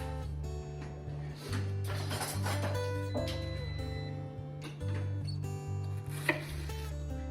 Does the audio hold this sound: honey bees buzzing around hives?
no